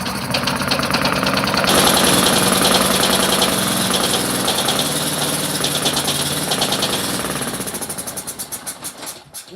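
A loud two-stroke engine running close up with a rough, buzzing drone that holds steady, then sputters and winds down into uneven pulses at the end.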